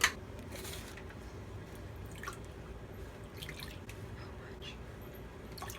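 Milk is poured for protein pancakes with a quiet, close trickle and soft glugging drips over a low, steady background.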